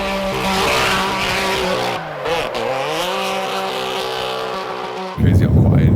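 A car in a gymkhana run spins out on a town street, with a loud, strained engine and tire squeal that bends in pitch, then a harsh rough burst at the end.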